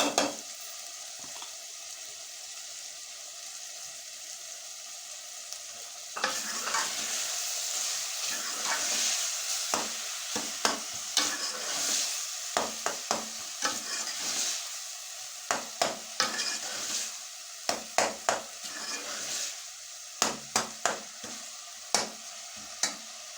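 Finely chopped garlic sizzles in hot oil for a mutton keema with peas, under steady stirring with sharp spoon scrapes and clinks against the pan that grow busier in the second half.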